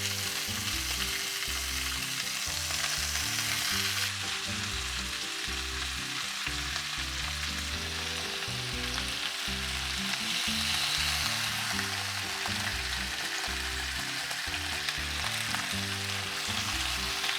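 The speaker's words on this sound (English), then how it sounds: "Then just add the meat and let it sit. You want a nice crispy brown on all sides." Oxtail meat browns in hot tallow, giving a continuous, even sizzle over a steady tonal background with no speech.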